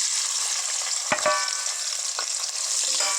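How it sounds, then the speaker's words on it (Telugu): Onions and green chillies sizzle loudly in hot oil for a Telangana-style boti curry, a continuous close frying hiss broken by a few soft clunks of stirring. "ఆయిల్ హీట్ అయ్యింది ఇందులో నేను ఒక టూ ఆనియన్స్ ఒక టెన్ మిర్చి వేసుకున్నా"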